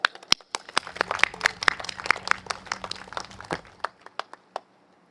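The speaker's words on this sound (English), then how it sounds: "Guys, give them a round of applause." A small crowd at an election rally claps in scattered, sparse applause, crisp individual claps that thin out and fade over a few seconds.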